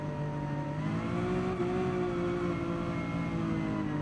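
F1-style racing car engines from Gran Turismo 7, a steady, loud high-revving whine with layered engine tones that hold fairly constant, with no voices over it.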